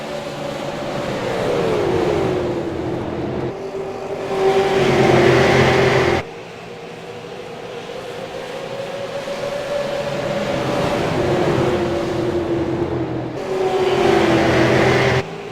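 Super late model race cars roar around Richmond International Raceway, engines droning with rising and falling whines as the pack passes, swelling loud in bursts with a sharp cut between passes, no voices.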